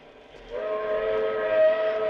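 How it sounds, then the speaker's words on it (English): A steam train whistle sound effect in a 1940s radio drama, one sustained steady tone that swells in after a soft start and holds for about two seconds, heard alone. "It sounded like a train whistle."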